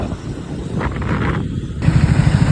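A Triumph 400 motorcycle engine responds to the throttle with a rising low growl that ends in rapid, pulsing exhaust beats heard close up.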